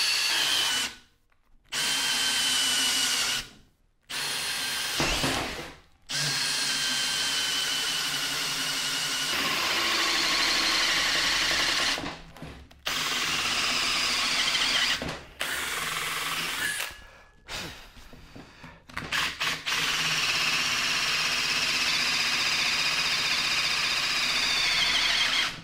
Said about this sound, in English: So if I drill into that, then I can carve around